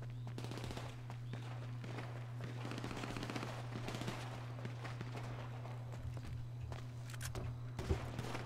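Rapid, faint video game gunfire rattles in quick repeated bursts over a steady electrical hum, with a slightly louder shot near the end.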